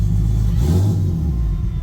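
A car engine, running a high-pressure fuel setup with a 5 gpm pump at over 30 psi, rises and falls in a single quick, light throttle blip, loud and close with a deep rumble, no talk.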